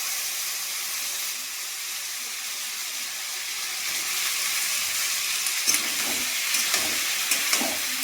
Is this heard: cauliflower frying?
yes